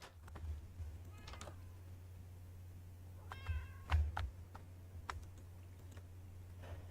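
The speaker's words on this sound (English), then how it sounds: "Yes, kitties, I hear you." Cats meow in the background of a room, several short faint calls scattered over a steady low hum, with a few soft keyboard clicks and no one talking.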